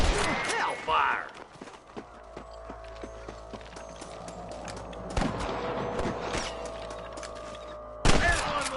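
Gunfire in the Western video game Red Dead Redemption: a few sharp cracking shots ring out early and again in the middle, with a final burst near the end, over a low droning game ambience and hoof-like clatter.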